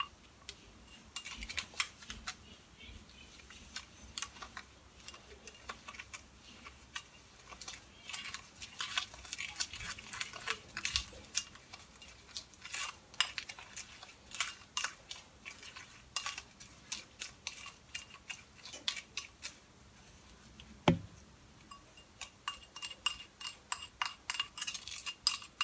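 A spoon stirring a homemade honey remedy mixture in a bowl, light clinks and scraping taps repeating quietly and unevenly for a long stretch.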